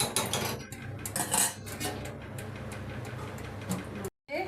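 A lid goes onto a pot of meat and potatoes cooking in a little water, with close metallic clatter and clinks of cookware, a busy cluster of knocks before a brief cut to silence.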